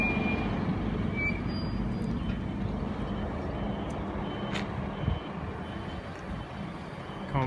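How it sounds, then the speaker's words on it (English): A bus pulls in near Lugano, Switzerland, with a low steady engine rumble throughout, short high beeps in the first second or so, and a brief hiss of air brakes near the end. "Here's the bus."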